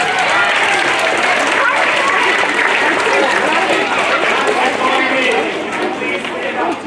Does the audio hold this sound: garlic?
no